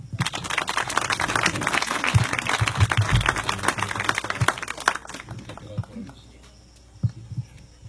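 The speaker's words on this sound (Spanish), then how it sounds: "Pido un gran aplauso." Audience applause at an award ceremony in the community of Joaquín Camaños, dense clapping for about five seconds that then thins into scattered claps with some talk and low hum behind.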